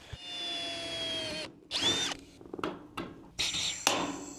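Metal roofing panels for a standing seam roof are joined with a power tool: a sustained whirring drive, then several short sharp bursts and clicks as rivets set, close and loud.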